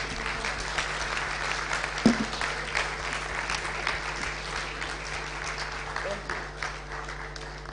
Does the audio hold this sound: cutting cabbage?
no